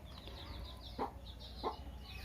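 Poultry on a small low-cost farm in a net enclosure make two short clucking calls close by over a steady farm-shed hum, with no talk.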